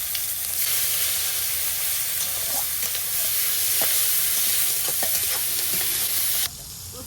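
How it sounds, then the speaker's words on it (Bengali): Bay leaves, whole cumin seeds and chopped onion crackle in hot oil for a home-style Bengali tempering, a dense, loud, continuous sizzle with occasional stirring scrapes and clicks; the hiss drops sharply just before the end. "তো এখন ফোড়নে দিয়ে দেবো তেজপাতা আর একটু গোটা জিরে, সাথে দেবো পেঁয়াজ কুচি।"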